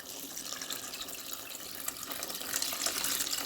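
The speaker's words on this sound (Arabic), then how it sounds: "دابا غنزيد عليها الماء، غنزيد الماء ونسد عليها الكوكوط" Water pours from a tap into a pot of Moroccan chicken rfissa, a steady bright splashing hiss that grows slightly louder toward the end, with no talking.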